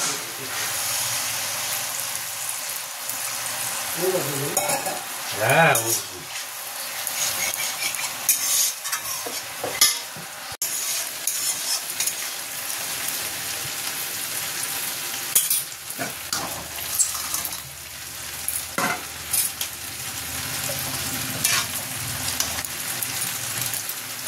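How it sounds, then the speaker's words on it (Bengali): Water is poured into a pan of sautéed spice paste for a fish curry, bringing a burst of hissing and bubbling, then stirring scrapes and a steady sizzle that continues close by, with brief talk near the start. "মশলা কষা হয়ে গেছে মাছের ঝালের জন্য। এবার এতে দিয়ে দেবো জল।"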